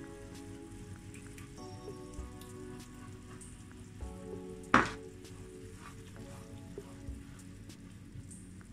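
A lemon cream sauce for salmon bubbles gently in a pan, a soft steady sizzle and crackle with one sharp clink partway through, quiet and close with no speech.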